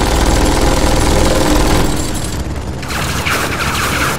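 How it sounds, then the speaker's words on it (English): Gunfire in the Tales from the Borderlands video game: a loud, dense, continuous barrage of rapid shots and booming impacts that fills the whole stretch, easing slightly midway before surging again, with no talking. "I can run through the gunfire"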